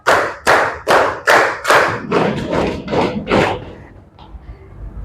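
A primary school class in Indonesia plays a rhythmic clapping game, many hands striking together in a steady burst of about eight loud, even claps, then tailing off into a few softer scattered taps.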